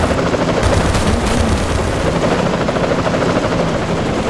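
Helicopter in the GTA video game, a dense continuous rotor and engine roar filling the clip at high level, with steady thudding texture and no speech.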